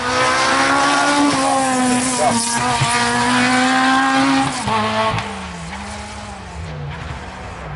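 Rally cars rumble near the start line of an asphalt sprint race, a loud continuous engine drone with rising and falling revs that eases slightly in volume toward the end.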